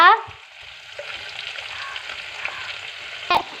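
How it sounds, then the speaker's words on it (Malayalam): Mustard seeds popping in hot oil for a green bean stir-fry, a steady bright sizzle with a few sharp crackles, close and moderately loud, with a clink of a pan near the end. "ഇനി ഇത് പൊട്ടട്ടെ നമ്മുടെ കടുക് ഇവിടെ നല്ലതുപോലെ പൊട്ടി"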